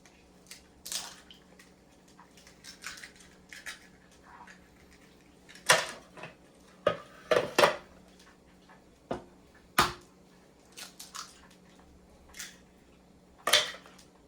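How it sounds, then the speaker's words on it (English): Eggs cracked one at a time into a bowl in a home kitchen, giving sharp, brief taps and cracks spaced over several seconds, close and clear against a quiet room. "Go ahead and crack our eggs."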